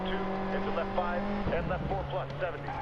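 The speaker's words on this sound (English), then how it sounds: "Listening to that beautiful Abarth engine." Abarth 131 rally car engine in the video game Sebastien Loeb Rally Evo, revving steadily then shifting partway through, heard under a voice talking over it.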